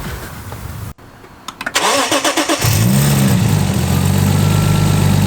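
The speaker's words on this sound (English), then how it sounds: "I'm gonna start it up." A Lexus IS200 fitted with a Japspeed decat exhaust manifold cranks with a few rapid starter bursts, then catches and settles into a loud, steady idle close by.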